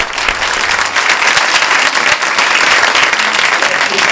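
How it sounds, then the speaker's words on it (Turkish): A talk show studio audience breaks into loud, continuous applause that holds strong and even throughout. "Alkışlar arkadaşlar"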